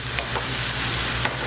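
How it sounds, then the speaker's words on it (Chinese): Shredded radish tossed in hot oil in a wok over high heat, giving a steady, close sizzle with soft scraping stirs and faint clicks throughout, no voices. "慢慢拌炒，炒到萝卜丝软了"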